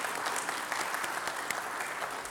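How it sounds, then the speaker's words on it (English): An audience applauds at a cyber security sensitization workshop in Trinidad and Tobago, giving a dense, steady wash of many hands clapping throughout. "I really do think that both these organizations deserve our applause."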